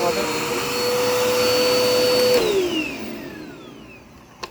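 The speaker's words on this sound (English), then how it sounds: "this is actually all around a great vacuum" A Dirt Devil Endura Reach vacuum cleaner runs with a loud, steady whine that holds its pitch, then drops in tone as it powers down, followed by a brief click.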